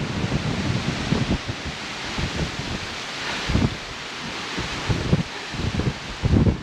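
Strong gusty wind at Franklin Lake in Chequamegon-Nicolet National Forest, northern Wisconsin, buffets the microphone in a steady roaring rush, with repeated low thumping gusts throughout.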